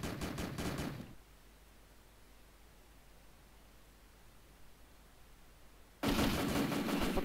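Rapid automatic gunfire bursts from Call of Duty: World at War on the Nintendo DS during an online free-for-all match, loud at the start and again at the end, with a hushed gap in between.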